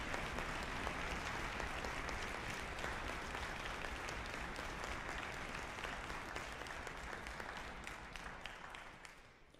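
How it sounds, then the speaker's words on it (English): An auditorium audience applauds band soloists at a symphonic band concert, sustained dense clapping heard from a distance, steady for several seconds and tapering slightly at the end. "Soloists from the Paulson, would you please stand and receive our applause?"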